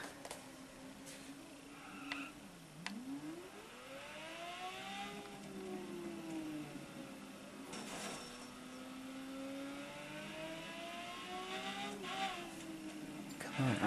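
A Lamborghini sports car in a video game accelerates and revs, its engine pitch climbing, dipping and rising again through gear changes. Brief tire noises and clicks appear alongside, and the engine stays moderately loud throughout.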